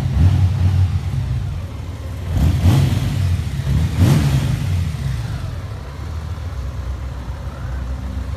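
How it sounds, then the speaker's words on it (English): A 2018 Honda Gold Wing Tour motorcycle's six-cylinder engine exhaust rumbles deep and throaty nearby, swelling in two brief revs before settling back to a steady idle. "It has a deep throaty note to the exhaust, which is really nice."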